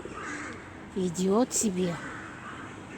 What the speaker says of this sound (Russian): Тут и вороны, и голуби, и кто там.